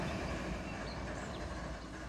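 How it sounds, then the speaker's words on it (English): A freight train slows to a stop under locomotive brakes in the Run8 Train Simulator game, a steady rumbling rail noise with wheel clatter, moderately quiet and continuous, no talking. "We'll go ahead and put the locomotive brakes on, bring the train to a stop"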